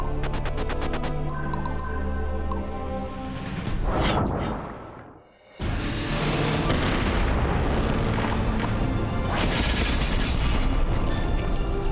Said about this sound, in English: We're going to start by using cannons.